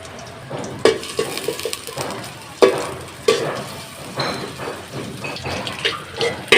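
Chukai leaves being stirred as they fry in a little oil in a pan, with sharp metallic scrapes and clinks of the spatula over a soft background sizzle, irregular and close.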